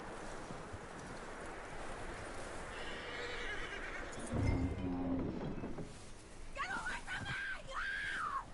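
A horse whinnies loudly mid-clip in Red Dead Redemption 2, followed by hooves and a second shrill neigh, with outdoor ambience and someone speaking.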